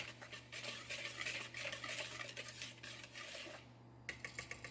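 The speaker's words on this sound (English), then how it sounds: "I'm going to give that a good mix." A spoon stirs dry corn casserole ingredients with salt in a bowl, giving a continuous scraping, rubbing swirl up close, ending in a few quick taps on the rim.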